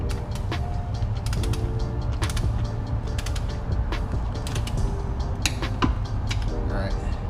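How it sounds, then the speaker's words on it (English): Ratcheting torque wrench tightening transmission bolts in a crisscross pattern during a K-series transmission rebuild, with repeated close mechanical clicks and creaks in steady bursts. "So crisscross these as I tighten them up with the torque wrench, 20 pounds."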